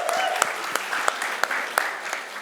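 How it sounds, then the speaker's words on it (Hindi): Applause from an audience at a celebrity app launch stage event, dense clapping with a few louder individual claps standing out at regular moments, with some voices mixed in. "तालियां तो बनती है यार"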